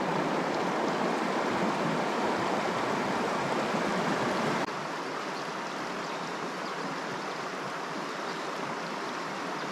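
The Cox River in the Australian wilderness, a continuous broadband rush of flowing water heard close and steady, with a slight drop in level midway and no voices.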